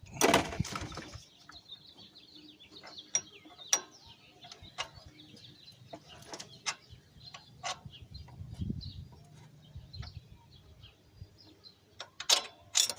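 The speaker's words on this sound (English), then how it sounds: "get these nuts off, get some of these bolts out" Wrench ratcheting on nuts and bolts during intake removal on a 1995–96 GMC truck engine, with clustered clicks and intermittent metallic clunks and taps, close up and fairly quiet, with no talking.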